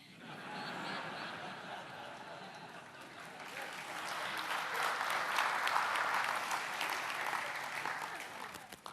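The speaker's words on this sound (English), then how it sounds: "You shouldn't clap." Audience applause at a talk, with scattered laughter mixed in, rising from moderate clapping to a louder, fuller burst in the middle before easing slightly, fairly distant and quiet overall.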